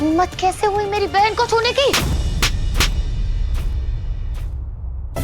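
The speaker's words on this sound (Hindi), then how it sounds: "ये तो थप्पड़ की आवाज थी।" A hard slap in a tense domestic drama scene, a sharp sudden crack right after someone shouts angrily, followed by a few smaller impact hits and a fading dramatic whoosh.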